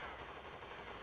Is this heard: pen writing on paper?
no